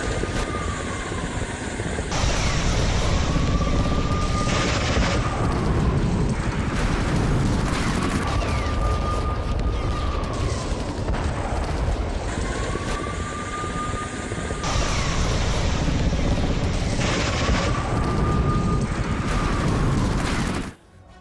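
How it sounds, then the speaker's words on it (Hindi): Russian KA-52M attack helicopter during a strike on Ukrainian military sites, a loud continuous rotor thump with turbine whine, repeated bursts of gunfire and booms layered over it throughout. "रूसी हेलीकॉप्टर KA-52M ने मचा दी तबाही"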